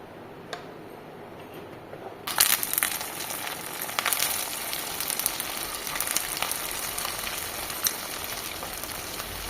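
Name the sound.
frying soaked sabudana (sago) in hot oil in a kadai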